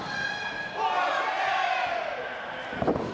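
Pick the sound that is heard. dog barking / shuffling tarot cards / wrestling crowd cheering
wrestling crowd cheering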